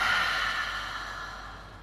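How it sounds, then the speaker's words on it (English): A slow exhale of breath released out through the mouth during a yoga class, a soft airy whoosh that fades gradually over nearly two seconds, heard alone without talk. "Exhale, just allowing the breath to fall out through the mouth."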